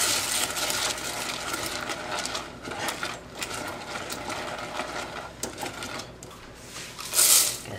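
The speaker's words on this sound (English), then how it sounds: "So I'm going to stir in the cornflakes." Cornflakes being stirred into a sticky wreath mixture in a bowl: a steady, fairly loud crackling, scraping rustle that keeps going with small swells, and no talking.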